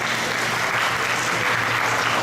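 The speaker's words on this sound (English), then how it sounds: "I think you all need to applaud the panel." An audience at a college education symposium gives the panel a steady, full round of applause that continues throughout without talk.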